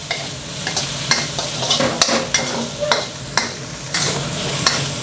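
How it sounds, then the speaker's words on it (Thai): Garlic, chili and kaffir lime leaves stir-fry in a hot wok for pad kaphrao, a steady close sizzle broken by repeated scraping strokes of the spatula, with no talking. "พอกระเทียมกับพริกแล้วก็ใบมะกรูดเริ่มสุกนะครับ ก็ผัด ทุกเขานะครับ ให้ทุกอย่างเข้ากันนะครับ"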